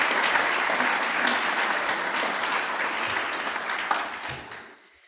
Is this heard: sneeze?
no